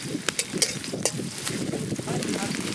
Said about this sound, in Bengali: পেঁয়াজ ভাজা শুরু করে দিয়েছি